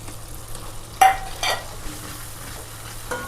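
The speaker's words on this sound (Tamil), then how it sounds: "நம்ம வதக்கி வச்ச பிரண்டையை சேர்த்து அதையும் ஒரு பிரட்டி விட்டுறலாம்" Pirandai sautés with onion and tomato in a pan, a low, steady sizzle punctuated by a couple of sharp spoon scrapes and a brief clank against the pan.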